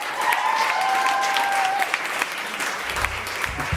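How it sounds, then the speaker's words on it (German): Concert audience applauding the horn section at a bachelor recital, sustained clapping with a few whistles or cheers early on, then a low rumble as the clapping thins toward the end. "Großen Applaus für die Bläser-Section."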